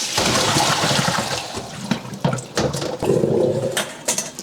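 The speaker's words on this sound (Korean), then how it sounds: "찬물에 한번 헹구겠습니다. 한 번만 살짝 헹궈 주겠습니다." Cold tap water runs steadily over salted cucumbers being rinsed for cucumber kimchi, a continuous splashing rush with brief breaks and bursts as the cucumbers are handled in the sink, with no talk.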